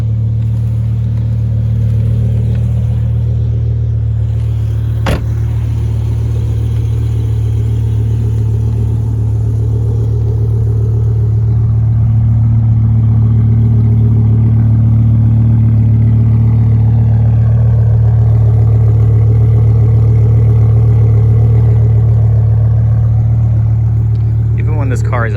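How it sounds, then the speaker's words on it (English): A BMW M6 E63 with a V10 engine idles with a steady, deep, close rumble throughout, its tone shifting slightly without a sharp rev. "Even when this car is idling, it sounds just really cool."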